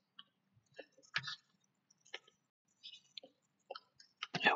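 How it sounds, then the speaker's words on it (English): Computer keyboard tapped during Warframe play, with sparse, close, crisp clicks in short irregular clusters against near silence and no talking. "I think the keyboard sounds a little bit quiet"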